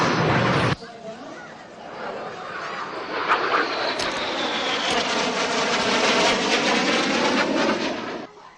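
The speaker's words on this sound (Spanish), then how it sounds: "el equipo de vuelo del sistema de British Aerospace Hawk T-1, aviones entregados a maniobras impresionantes" British Aerospace Hawk T-1 jets fly display manoeuvres with a loud, sustained roar that rises and sweeps past. A voice talks at the very start, and the engine noise then fills the rest.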